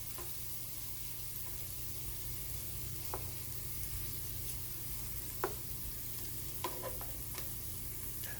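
Shrimp fry in a butter sauce in a pan, giving a low, steady sizzle with a few soft clicks and taps of tongs scattered throughout.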